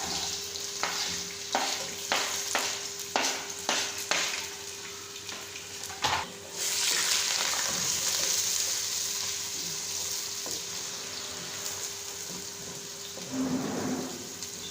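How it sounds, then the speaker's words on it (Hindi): Chopped onions hit a hot pan for mutton paya and begin frying: a series of sharp stirring scrapes comes first, then a steady close sizzle runs through the rest with a brief burst of stirring near the end. "ये चॉप किए हुए प्याज को हम इसमें शामिल कर देंगे।"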